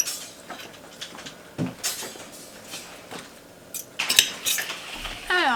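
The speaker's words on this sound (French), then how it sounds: "je vais la couper comme ça la fourchette, comme la déchiqueter un petit peu" A fork scrapes and clinks against a pot while shredding simmered beef chuck, with irregular metallic taps and scratches, close and fairly loud, growing busier toward the end.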